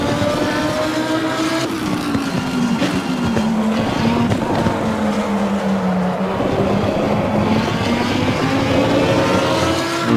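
A race car in Assetto Corsa Competizione accelerates hard, its engine a loud continuous roar with a pitch that sweeps down and back up as it works through the revs, steady throughout and close.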